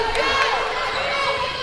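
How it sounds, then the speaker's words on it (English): A raucous crowd at a 7th grade basketball game between Wallace Rangers and McCormick Tigers keeps up a steady, loud roar of cheering and shouting, with a voice talking over the noise. "And the crowd is raucous here early in this one."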